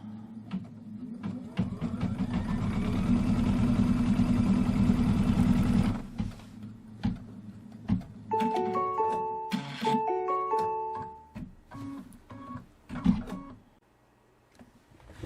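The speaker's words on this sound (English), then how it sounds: "put the foot down, and let it stitch out that line" An embroidery machine stitches a line through two layers of quilting fabric in a hoop, a loud rapid whirring run for several seconds that stops, followed by a series of clear electronic beeps and quieter clicks.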